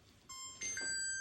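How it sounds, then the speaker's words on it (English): A kitchen timer going off in a home kitchen during kombucha making, steady electronic beeping tones that step up in pitch and overlap, close and fairly quiet, with no speech. "The timer's done."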